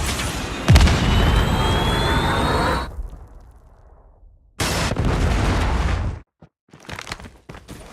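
A predator missile in a Call of Duty-style game streaks in with a jet-like roar and detonates in a loud explosive burst, followed by a stretch of rumbling battle noise and scattered later pops.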